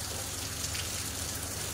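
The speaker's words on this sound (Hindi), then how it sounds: "हाँ, बारिश कंटिन्यूस हो ही रही है, रुकी नहीं है।" Heavy monsoon rain falls continuously, a dense, steady hiss with no breaks, close and loud, on an overnight downpour near Amboli or Panchgani during flood-like conditions.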